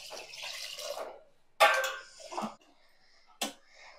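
Water is poured onto soaked basmati rice in a pot. A few short, close splashing gurgles come in separate bursts with quiet gaps between them.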